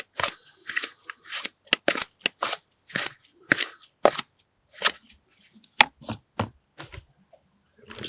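Garden material for topping potting mix is chopped into small pieces with sharp, crisp cuts, about a dozen irregular snips close up and alone, separated by brief quiet gaps.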